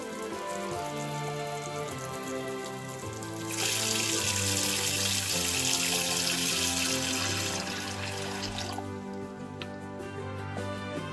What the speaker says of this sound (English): place the pork in a pot and then fill it up with water, enough to cover the pork